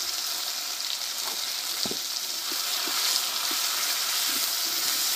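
Nigella seeds and a prepared spice paste sizzle steadily in hot oil for a Bengali fish curry, a loud, continuous frying hiss with a few small scrapes from a utensil.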